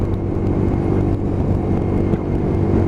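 A Lexmoto LXR SE 125cc motorcycle being ridden, its engine drone steady and loud throughout with constant low rumble and wind noise, no talk.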